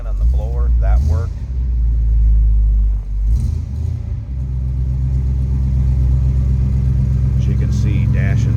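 A 1966 Chevrolet Bel Air four-door wagon engine idles with a deep, steady low rumble. It is close and constant, with brief voices over it near the start and end.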